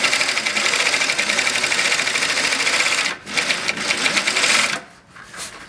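AtlasUSA AT2150M zig zag cylinder-bed sewing machine stitching heavy-duty material, a loud steady rapid mechanical chatter that briefly pauses, resumes for a back-and-forth run, then stops.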